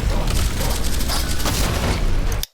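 An overpumped shotgun blowing up in the player's face in the Ultrakill video game, a loud sustained explosive burst with crackling, mechanical rattling layers that cuts off abruptly at the end.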